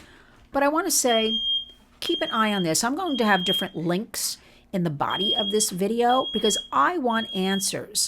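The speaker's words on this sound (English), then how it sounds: "That is just the fire alarm going on, a little cooking in our house today." A smoke alarm set off by home cooking beeps repeatedly in short, steady pulses under continuous close speech, someone talking throughout.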